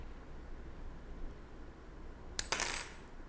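A single sharp, faint metallic click sounds as a pin sets while picking a Master US SET lock with an anti-bump pin, isolated against quiet background hiss.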